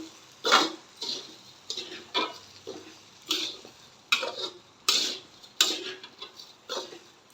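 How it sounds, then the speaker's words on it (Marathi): Uncooked rice for anganwadi khichdi is stirred through hot tempering in a pot, giving a regular series of close scraping, clicking strokes about every half second, no speech. "आता हे छानपैकी असं परतून घ्यायचं"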